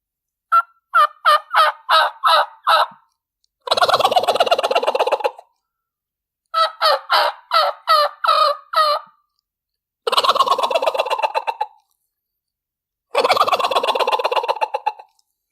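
A turkey gobble imitated on a reed turkey call, fairly high-pitched like a Merriam's turkey: five loud, close rounds alternating quick rattling bursts with longer warbling gobbles, separated by short silences.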